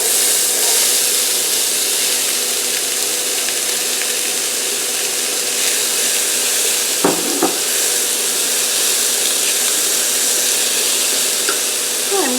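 Diced squash, zucchini, carrots and onion sizzling steadily in a hot pan, a loud continuous frying hiss with a brief clatter partway through.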